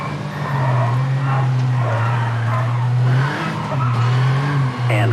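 A Porsche rally car in the video game V-Rally 4 skidding through a donut on tarmac, a loud continuous engine drone with rising and falling revs and tire squeal, close and alone.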